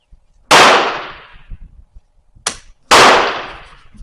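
Romanian Mauser rifle firing commercial Mauser ammunition outdoors, two loud sharp gunshots with ringing decays spaced a couple of seconds apart, plus a brief metallic clack of the bolt between them.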